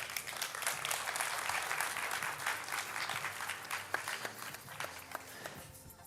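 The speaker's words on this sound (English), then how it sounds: "So big applause for her." A crowd at a tech event applauds a woman, steady dense clapping throughout, moderately distant and fairly quiet, tapering slightly toward the end.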